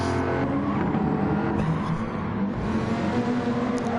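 Race cars roar continuously through a racing video game on PS4 at Daytona, engines droning loud and steady as one drifts round a corner, with faint skidding under the constant engine noise.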